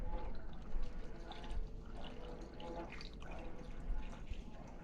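Cold brew coffee is poured from a container into a cup of ice, giving a soft close trickle with light clinks and drips that run throughout at low volume.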